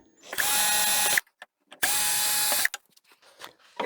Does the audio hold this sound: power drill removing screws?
yes